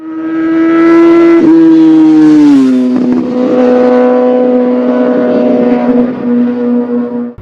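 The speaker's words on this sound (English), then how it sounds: "Before you see a motorcycle coming, you hear it." A loud engine revs high, dips and settles into a steady droning roar, with a sharp shift in pitch partway through.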